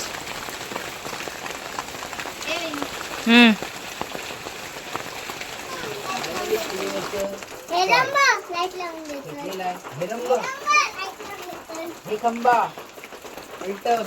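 Steady rain patters in the background while children talk and call out nearby, with a brief louder thump partway through.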